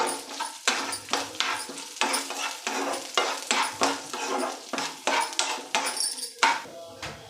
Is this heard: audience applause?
no